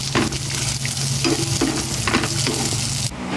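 Peanuts submerged in hot cooking oil fry with a loud, dense, continuous crackling sizzle, broken by scraping stirs, before cutting off abruptly near the end.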